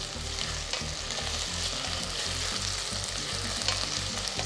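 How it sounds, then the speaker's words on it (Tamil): Onions sizzle and crackle in a hot pan as they are sautéed and stirred for Chettinad vengaya kosu, a steady close frying hiss with soft rhythmic scraping of the stirring. "ஜஸ்ட்டு ஒரு 2 மினிட்ஸ் நம்ம நல்லா இதை வதக்கணும்."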